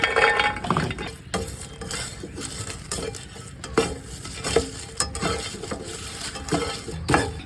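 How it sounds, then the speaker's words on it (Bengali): Garlic dry-roasted in a pan without oil, stirred with steady scraping and clinking of a utensil against the metal, with a light dry frying crackle underneath. "তেল ছাড়া রসুনগুলো ভেজে নিব।"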